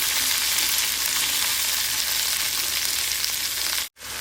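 Okra pieces fry uncovered in an open pan, producing a loud, dense, continuous sizzle close up that cuts off abruptly for an instant near the end before resuming.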